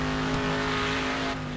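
A race car in the video game Wreckfest (Next Car Game), driven with a steering wheel, holds a steady, loud engine drone with a sustained tonal whine throughout, with no voices.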